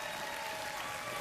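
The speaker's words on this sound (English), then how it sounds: "but a clap is well earned." Steady applause from an audience fills the moment, a dense wash of many hands clapping at even loudness with no pauses.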